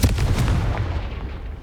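Confringo fire spell explosion in Hogwarts Legacy, a loud booming blast at the start that rolls off into a fading rumble over about a second and a half.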